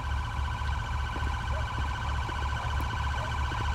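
A police car siren in GTA V blares loudly and steadily, with layered tones holding over a low engine rumble.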